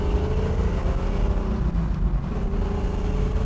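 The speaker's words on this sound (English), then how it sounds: "sounding good, going through the gears" A 1967 Chevrolet Camaro's engine pulls through the gears on a test drive, a loud continuous low rumble with a rising and falling pitch as it shifts, with no talking over it.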